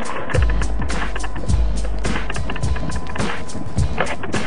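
Battery-powered paper fan driven by a Newman motor drawing around 14 watts from many AA cells, giving a steady loud whooshing rumble with rhythmic thumping pulses roughly every second, alone without talk.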